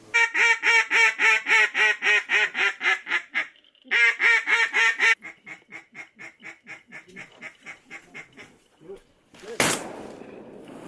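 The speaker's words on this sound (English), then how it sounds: "Hey, little ducks. On the far right side." Loud, rapid series of mallard duck quacks in quick rhythmic bursts during a duck hunt, pausing briefly, then continuing more sparsely before a sharp burst of noise near the end.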